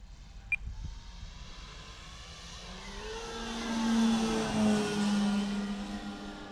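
A small engine whines steadily in the distance, its pitch slowly rising and falling as a Hangar 9 Timber 110-inch RC model airplane flies slowly overhead.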